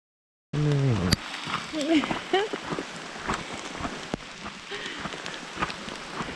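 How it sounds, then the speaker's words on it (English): Steady rain patters over the whole clip on a backcountry trail at Sleeping Giant, a dense broadband hiss with scattered drip impacts, while a person speaks briefly near the start. "2 kilometers in, she's raining."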